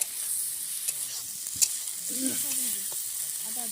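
Cauliflower with chilli, ginger-garlic-cumin and cardamom pastes cooking in a pan, stirred with soft scrapes and knocks over a high steady hiss, close up.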